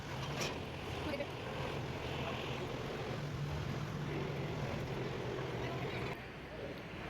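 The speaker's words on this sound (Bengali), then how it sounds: "যে লঞ্চ ছেড়ে দিয়েছে আমাদের।" A passenger launch pulls away across the river, its engine a steady low drone mixed with wind and water, with faint voices nearby.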